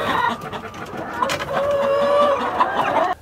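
Chickens on an organic farm cluck and call close by, a steady busy chatter of several birds with a few sharper squawks rising above it.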